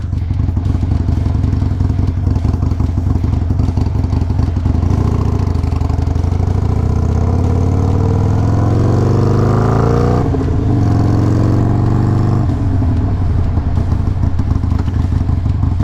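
A Harley-Davidson Iron 883 with Stage 1 upgrades and a check engine light on, running a little rich, idles with a loud steady rumble, then rises through a couple of revs before settling back to idle.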